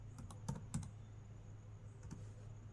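Keys are tapped on a computer keyboard to enter a website name into a Chrome browser, producing a quick, faint cluster of clicks with a couple more shortly after, and nobody speaking.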